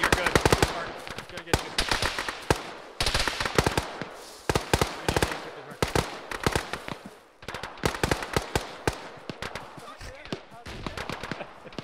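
Rapid video game gunfire rattles in dense automatic bursts, loud and close, with brief pauses between volleys while players talk over the shooting.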